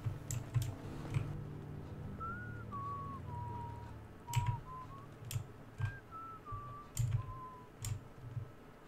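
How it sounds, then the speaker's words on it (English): A character in Fallout 4 whistles a wobbly, off-key tune in a few faltering phrases, while keyboard clicks and game ambience tick along underneath. "Wow, you really are bad at whistling"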